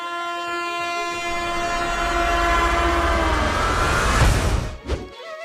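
A cartoon train approaches with a long, loud horn blast that swells over rumbling, clattering wheels, then ends abruptly; no talking is heard.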